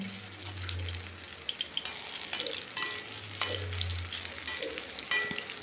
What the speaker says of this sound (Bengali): ডিপ ফ্রাই করছি না স্যালো ফ্রাই করছি